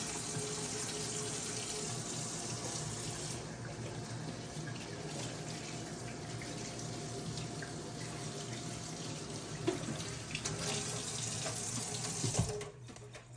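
Hands are washed under a running kitchen tap at a sink while a roast is prepared, giving a continuous, close rush of water that shifts in tone as the hands move, with a brief clatter near the end.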